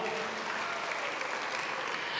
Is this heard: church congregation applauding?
yes